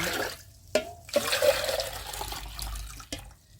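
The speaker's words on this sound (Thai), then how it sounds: "เราจะใช้น้ำดื่มนะคะ เราเติมสี่ลิตร" Drinking water pouring into a container of rosella wine mix, four liters in all, a close rushing splash that wavers and fades, broken by brief clunks.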